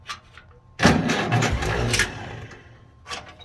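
Woods 42C rotary mower engine starting up on choke: a short quiet lead-in, then a sudden loud burst of cranking and catching that runs rough for about two seconds, settles lower, and ends with a brief tail.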